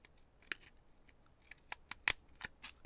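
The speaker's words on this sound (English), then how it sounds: "I wonder if we can get this to cut, huh? These scissors are not the best." Dull scissors snip through paper while making stamped tickets, a handful of short sharp crunching cuts at irregular intervals, close and fairly quiet.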